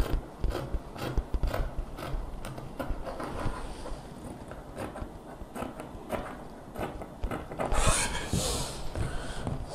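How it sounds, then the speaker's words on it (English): Scissors snip through soft, stretchy fabric in a quick run of faint, close cuts, with small clicks of the blades. "So then I cut."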